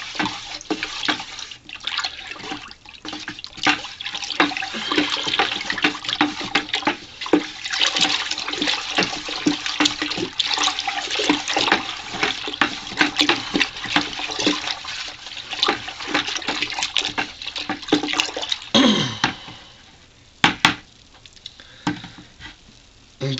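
Tanning liquor for deer skin tanning poured from a container into a vessel, a steady close splashing gush of liquid running for most of the stretch, tapering off near the end with a few brief knocks.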